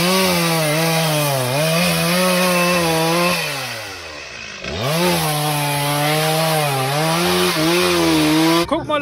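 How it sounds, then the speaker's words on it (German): Chainsaw cutting firewood for an Easter bonfire, the engine droning steadily close by with rising and falling pitch as the blade bites, briefly dropping to idle midway before revving back into the cut. "Und hier wird Osterfeuerholz gesägt."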